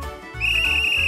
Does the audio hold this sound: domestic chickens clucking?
no